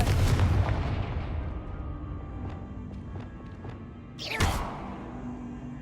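Confringo fire spell explosion in the game Hogwarts Legacy: a dense low booming rumble throughout, a few sharp cracks in the middle, then a bright burst near the end, all loud and close with no talk.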